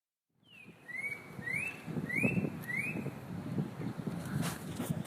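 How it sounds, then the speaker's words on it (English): A spot-breasted oriole sings a series of four or five clear, rising whistled notes in a steady rhythm, moderately near, over a noisy outdoor background with rumbling sounds below. "We're listening to his spot-breasted oriole"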